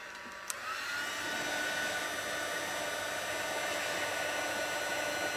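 A heat tool blows hot air onto puff paint on snowfall-themed Christmas tags, starting with a click and then a steady, loud, even hiss that holds without a break.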